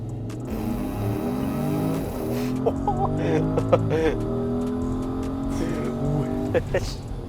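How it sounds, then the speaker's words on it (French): A 2024 Porsche Cayenne Turbo engine revs and builds as it launches from a standstill, growling steadily with rising pitch, while people talk and exclaim in French inside the cabin. "On va faire un petit démarrage arrêté."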